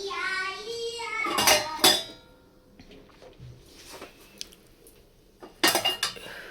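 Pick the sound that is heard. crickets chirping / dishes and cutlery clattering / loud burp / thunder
dishes and cutlery clattering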